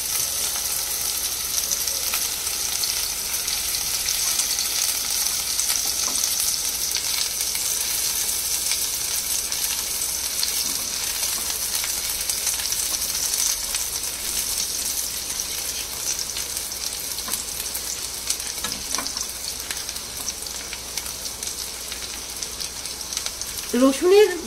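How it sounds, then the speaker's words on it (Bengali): Chopped garlic fries in oil in a pan for chicken bhuna, making a continuous, even hiss and crackle that holds at a steady level throughout, with only faint stirring noises. "এটা ভালো করে ভেজে নেব।"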